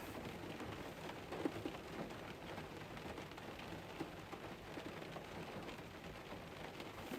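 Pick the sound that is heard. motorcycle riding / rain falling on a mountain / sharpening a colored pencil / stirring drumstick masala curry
rain falling on a mountain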